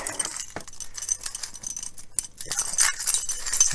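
A heavily loaded keyring is shaken nearby, giving a dense, continuous metallic jangle of many keys clinking together, with bright rattling bursts throughout.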